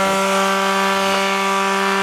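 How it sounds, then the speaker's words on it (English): A power sander runs off a portable 350W power inverter powered by a Milwaukee battery, giving a steady, loud, continuous whine with a strong tonal hum, close up. "Let's actually hook up a sander to this thing."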